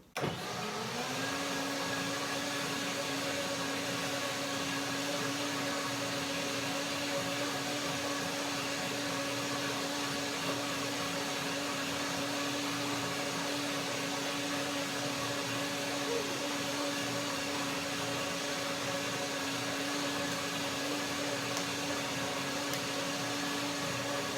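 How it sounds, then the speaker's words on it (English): A blender whirs continuously through a cherry cashew milkshake of water, cashews and cherries, a loud steady motor drone that starts abruptly and holds unchanged for over twenty seconds with no talk. "Blender dance number 2."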